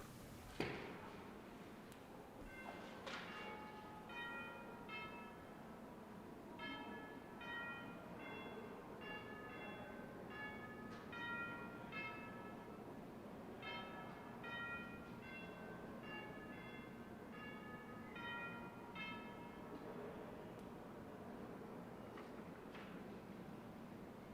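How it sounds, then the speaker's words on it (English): The Colorado Senate chimes ring for a moment of silence in the chamber, a faint series of clear bell tones struck in repeated short phrases over a quiet room hum. "The Senate will observe a moment of silence, and the Senate chimes will be rung."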